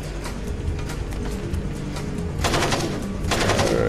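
Gunfire from the stealth video game Splinter Cell on a PS2 oil rig mission, steady rattling shots in close succession, with a louder burst of broadband blasts near the end.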